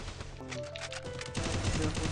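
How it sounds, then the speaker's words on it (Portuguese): Rapid bursts of video game gunfire crackle over layered game music and effects, continuous and fairly dense. "Um tiro, um tiro."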